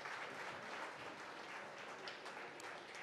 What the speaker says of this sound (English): give them a better round of applause to all of them